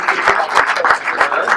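Crowd applause for cyclist Pierre Barbier at a Tour de Bretagne stage event in Sérent, a dense, loud burst of clapping from a gathered audience.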